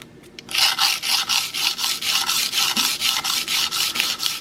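A broadhead is rolled back and forth across sharpening plates, giving steady rhythmic rasping strokes that start after a short pause and keep a regular back-and-forth pulse, close and fairly loud.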